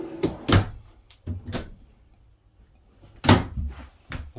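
Full-depth storage drawers in a new Montana High Country 373RD fifth wheel RV sliding open and shut, a series of close wooden clunks and rattles in uneven bursts, with no talk.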